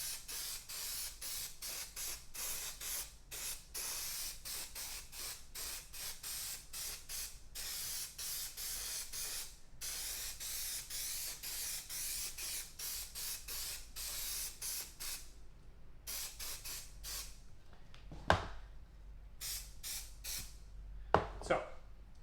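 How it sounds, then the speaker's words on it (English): An aerosol can sprays adhesive onto the end of a Mustang interior panel in bursts of close, loud hissing, sometimes long and sometimes short, with a couple of thumps near the end as the spraying stops. "Okay, so now we'll spray this end of it."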